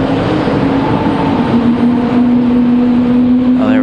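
Airport apron noise at Raleigh-Durham International as a JetBlue Airbus A220's jet engines start up, a loud steady whine and rising hum with a brief upward sweep near the end, no talk over it.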